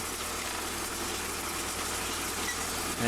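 A tractor engine pulling a 2-row corn planter runs with a continuous, even drone and rumble, fairly close and steady throughout, with no talk.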